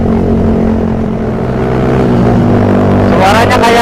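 A Suzuki Satria FU motorcycle engine drones close and loud with a steady, fan-like whir that rises slightly near the end, and no voices are heard.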